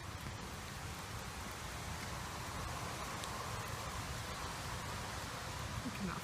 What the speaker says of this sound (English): A fine, light little rain.